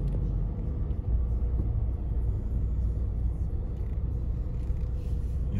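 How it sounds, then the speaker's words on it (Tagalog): Road traffic, with cars in slow congestion, heard as a steady low engine rumble close by, continuous and fairly loud, with occasional faint voices. "Wow, traffic."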